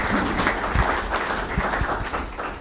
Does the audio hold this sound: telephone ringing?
no